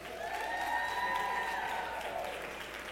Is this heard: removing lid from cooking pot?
no